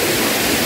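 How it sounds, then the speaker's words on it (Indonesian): Small, low waterfall at the Mandalawangi camping ground, fed by the flow from Lake Mandalawangi, rushing in a loud, steady, close wash of water with no voices. "ada air terjun yang ya tidak begitu tinggi guys"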